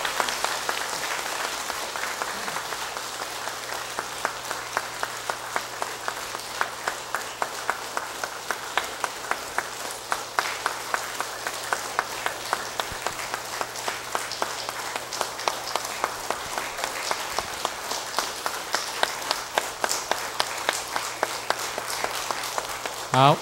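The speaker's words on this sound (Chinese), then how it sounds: "咱以最热烈的掌声 来恭请" Sustained audience applause at a ceremony in a Tianlun dharma hall, steady clapping running for over twenty seconds with a few voices mixed in underneath.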